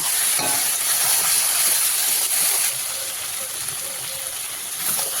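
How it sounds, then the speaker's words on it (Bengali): Mutton and potatoes fry with spices in a pan for a mutton korma, a steady loud hiss with faint scraping throughout, easing slightly partway through. "এবার আমি ভালো মতন একটু কষিয়ে নেব।"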